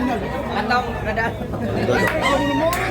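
A large rooster crows among fowl for sale at a chicken market in Tabunok, Cebu, the crow rising over nearby chatter and people talking.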